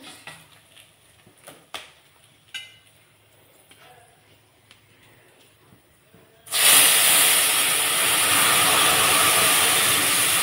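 Lentils (dal) hit a hot pan in a Bengali home kitchen for a dish with drumsticks, bursting into a loud, steady sizzle that starts abruptly partway through after quieter kitchen clatter and holds to the end.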